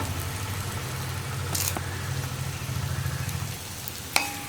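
Curry leaves drop into a hot pan of winged beans, raising a steady soft sizzle with faint crackles and a low hum beneath, no voices.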